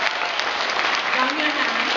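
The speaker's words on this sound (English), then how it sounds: "Children, we must welcome our guest with big clap." A room of children claps together to welcome a guest, dense and sustained applause that stays loud and even, with voices mixed in.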